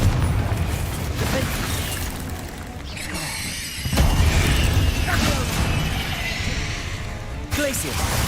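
Confringo spell explosions in the video game Hogwarts Legacy make loud booming bursts around the middle, set within a dense, busy game soundscape.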